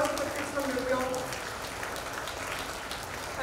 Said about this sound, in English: Big round of applause for the kids from New York